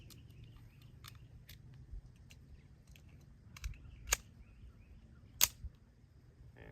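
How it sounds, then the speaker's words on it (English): A Ruger Mark IV 22/45 Lite magazine being reloaded: small, sharp metallic clicks spaced irregularly, with a couple of louder snaps near the end over a quiet room hum. "I'm going to try to reload this other mag."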